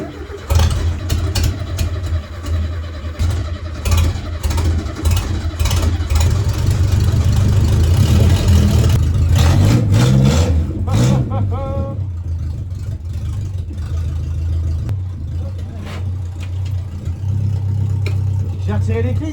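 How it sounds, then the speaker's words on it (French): A Renault 4L engine on the 4L Trophy rally coughs back to life, then idles and revs in uneven surges, loud and close, with brief voices heard over the running engine. "le moteur venait de reprendre vie"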